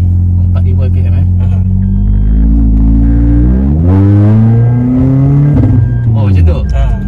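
A 2020 Perodua Myvi engine revs repeatedly, its pitch rising and falling around 4000 RPM, loud and close with rumbling exhaust; people talk over it, and distinct backfire pops are not clearly evident.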